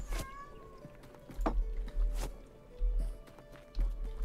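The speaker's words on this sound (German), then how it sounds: "Also falls ihr die Katzen hört," A few short cat meows sound amid background noise from the video game Tavern Manager and soft thumping footsteps, moderately quiet.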